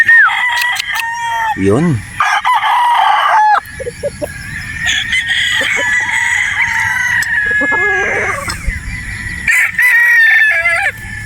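Gamecock rooster of bulik coloring on a Batangas game farm crows repeatedly, loud and close, with shrill drawn-out calls and clucks over a busy yard; a brief voice is heard.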